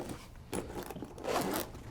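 Zipper on the outside of a Dye M2 paintball gun case being pulled open, short raspy zipping strokes in two or three bursts, close and fairly quiet with no talking.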